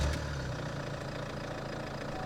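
A 2014 Chevrolet Cruze turbo diesel engine runs at idle, a steady low rumble with a faint knocking clatter, heard from inside the car, constant and unbroken with no voices.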